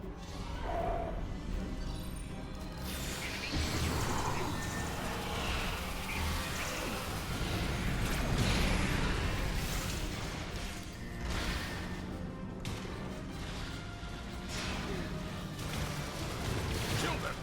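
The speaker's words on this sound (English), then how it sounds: "Weapons at highest setting. Open fire!" Weapons set to their highest setting open fire in a sustained, dense barrage of blasts, crashes and whooshes, loud and continuous throughout.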